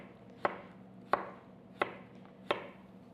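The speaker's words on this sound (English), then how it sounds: "flip it over onto its stable base, and thinly chop" A knife thinly chopping food on a cutting board, four crisp evenly spaced strikes, close up, with no voices.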